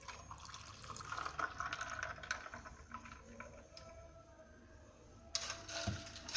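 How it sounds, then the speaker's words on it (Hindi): Ice cubes dropping and clattering into a glass of raw mango sharbat, a cluster of close, clinking knocks and splashes across the clip, with a sharper burst of impacts near the end. "अब मैं डालती हूँ बर्फ"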